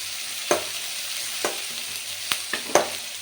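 Onions frying in a pan for Tamil-style egg rice give a steady, close sizzle, broken by several sharp clinks and scrapes of a spatula stirring against the pan.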